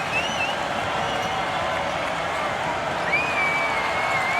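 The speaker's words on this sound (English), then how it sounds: "Listen to the crowd" A women's college basketball arena crowd at an NCAA tournament game between Gonzaga and UC Irvine keeps up a steady roar of cheering, with a commentator's voice running over it.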